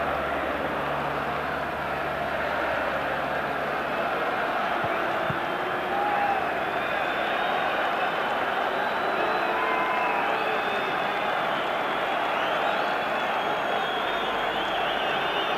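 A capacity stadium crowd of about 46,000 at a Rangers v Aberdeen final makes a steady distant murmur and roar, with faint whistles and shouts rising from the din.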